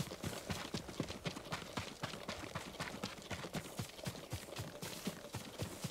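A horse's hooves clop steadily in Ghost of Tsushima, a fast, even beat of close hoofbeats that carries on without pause through the whole stretch.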